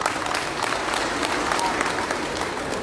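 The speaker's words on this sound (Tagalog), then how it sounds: "Bigyan po natin ng malakas na palakpak silang lahat." Crowd at a provincial relief goods distribution gives a loud, steady round of applause, clapping close and continuous throughout with no speech on top.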